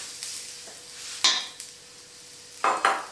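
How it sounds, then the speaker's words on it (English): Onions and garlic hit butter and oil in a pan, giving a soft, steady sizzle broken by several louder scraping and stirring sounds from a utensil against the pan. "then in goes the onions and garlic"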